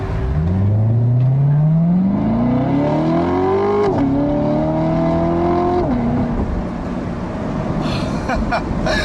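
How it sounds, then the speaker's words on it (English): A 2014 Chevrolet Corvette Stingray revs up through rising gears, its exhaust note climbing in pitch with a brief drop at each shift, loud and close throughout. "You can hear there the exhaust"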